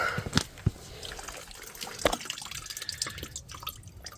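Diesel fuel with sediment drains out of an engine during a DIY fuel and oil service, heard as a quiet trickle with a few sharp drips standing out near the start.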